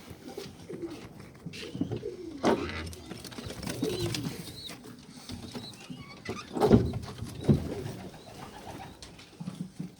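Soft, low homing pigeon coos come in intermittent bursts, close by, with faint rustling and shuffling between calls.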